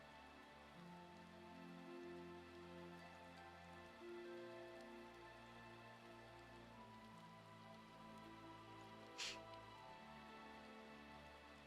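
Rain falling in Final Fantasy XIV, a faint, steady patter on surfaces beneath sustained game music, with one brief sharp tick near the end.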